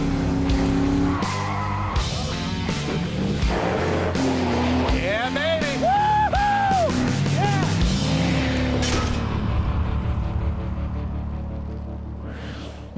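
A 2002 GMC Sierra 1500 truck driving off-road in dirt, its engine revving and roaring with tire squeal and rising pitch sweeps, mixed under excited shouting and voices, then fading toward the end.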